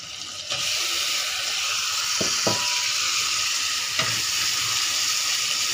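Prawns hit a hot pan with masala spices and burst into a loud, steady sizzle, with a few clinks and stirring knocks over the continuous frying hiss.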